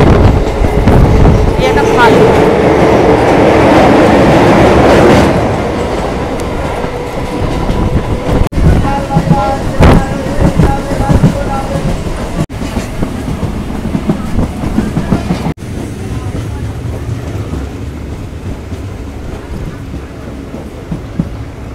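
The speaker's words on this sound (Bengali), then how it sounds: "স্টেশনে যখন ট্রেনটা চলছে" A train rolls near a station, with a loud rushing rumble up front that eases into a steady clickety-clack of wheels over rail joints, plus sharp clanks and knocks as it keeps moving.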